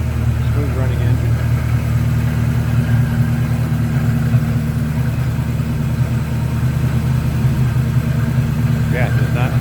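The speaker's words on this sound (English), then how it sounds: "Smooth running engine." A 1984 Ford Mustang GT with a 5-liter V8 and aftermarket headers idles steadily and smoothly, a continuous close low rumble throughout, with someone talking over it.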